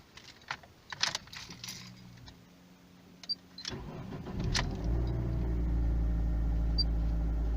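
A few clicks and rattles, then a car engine cranks and catches, settling into a steady, fairly quiet idle that continues to the end.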